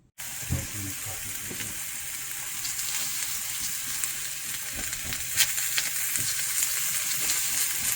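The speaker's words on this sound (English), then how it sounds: "Fry it up in its own fat." Meat frying in its own rendered fat in a pan, a close, continuous crackling sizzle with scattered sharp pops, growing slightly louder toward the end.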